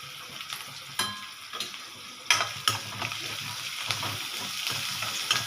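Oil sizzles and crackles steadily up close as spices fry for tempering, with salt added, a few sharper pops and stirring scrapes breaking through the continuous frying hiss.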